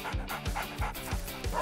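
A dog pants close by in quick, rhythmic breathy bursts, about three per second, with faint whimpery or yippy vocal edges and no other sounds.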